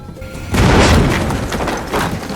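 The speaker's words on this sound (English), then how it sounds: "after a loud explosion, the wall collapsed" A loud, deep explosion from a detonator bursts in suddenly as a wall collapses, and keeps rumbling with a heavy debris-like roar, staying loud throughout.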